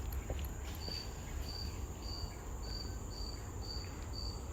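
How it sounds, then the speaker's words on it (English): A cricket chirps steadily in a nature park, a thin high-pitched pulse repeating about every half second, faint and somewhat distant over a low outdoor rumble of wind and ambient noise. "It's a cricket."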